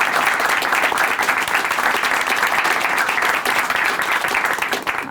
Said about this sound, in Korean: 여기서 박수가 나와야 되는 거 아닌가요?